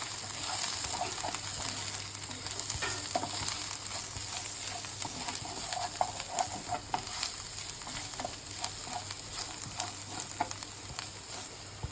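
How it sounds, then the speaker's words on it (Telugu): Turmeric and chili powder being stirred into paneer cashew curry in a hot pan, a soft continuous sizzle with repeated scraping strokes of the spoon and a low hum underneath. "ఒక టేబుల్ స్పూన్ పసుపు, 2 టేబుల్ స్పూన్ కారం వేసి బాగా మిక్స్ చేసుకోవాలి."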